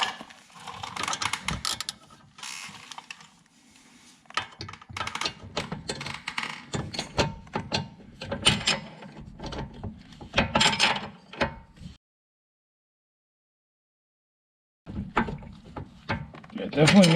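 A 13/16 wrench ratchets on a front strut bolt of a 2013 Ford Explorer, giving close, repeated clicking and metallic clanks in bursts with short pauses, then a silent gap before more ratcheting at the end.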